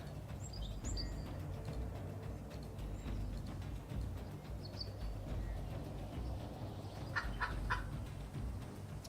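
Chickens cluck at a chicken coop in an Unreal Engine game, scattered short calls and chirps over a low steady background hum.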